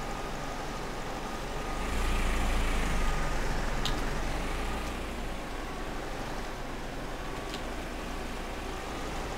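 Engine rumble of a Renault tractor in the farming game Farming Simulator 15, its wheels spinning in clay, a steady loud drone that swells briefly before settling back.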